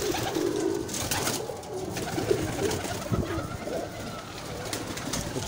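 Breeder pigeons, including a blue pigeon and a Chinese pigeon of the Majha breed, kept by a Lahore fancier in Bhati Gate, cooing softly at a distance amid rustling noise and a murmuring voice.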